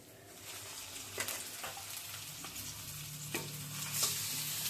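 Marinated mutton hits hot oil and sizzles steadily, a loud, dense hiss broken by a few sharp crackles and stirring scrapes, with no one speaking.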